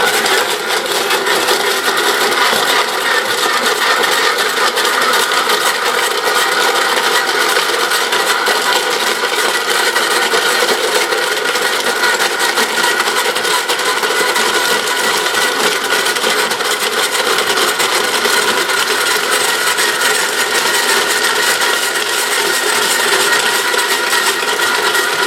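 A hand-pressed ice shaver grinds ice for snow cones, making one continuous loud, harsh scraping roar that stays close and steady throughout.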